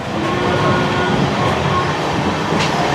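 A passenger train rolls through a station near Chakdaha on a Kolkata route, heard from inside the carriage as a steady loud rumble and roar with faint rail clatter throughout.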